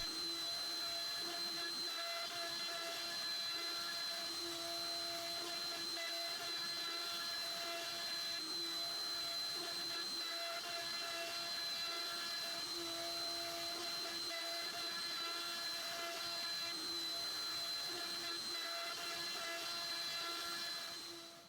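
A CNC router on a PROVerXL 4030S carves a bow tie inlay pocket into wood with a 1/4 inch bit, giving a steady, loud whining drone with tonal hum that runs unbroken throughout with no talk.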